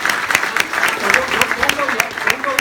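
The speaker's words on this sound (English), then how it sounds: "let's give them a round of applause." Audience at a keynote address in Australia claps in a round of applause, a short, lively burst of many hands with some voices mixed in underneath.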